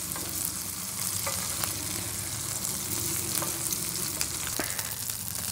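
Burgers browning in a pan inside a Carthago motorhome give off a steady, close frying sizzle with a few light clicks and scrapes, no voices present.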